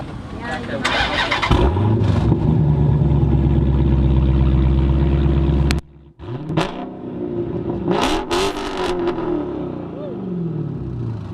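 A Dodge Challenger engine revs loudly and roars with a deep exhaust drone through a mid muffler with no resonator, cuts off sharply, then revs again with rising and falling bursts; voices talk underneath.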